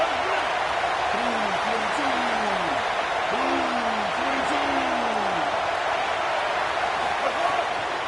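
A stadium crowd roars steadily at a Mississippi State versus Clemson college football game, a dense, loud wash of cheering that never lets up, with voices heard over it.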